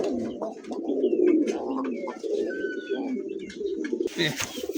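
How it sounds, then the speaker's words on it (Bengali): A pair of khaki pigeons coo softly and close by in repeated low, throaty phrases, with faint chirps in the background. "খুব সুন্দর এক জোড়া খাকি কবুতর দেখছেন"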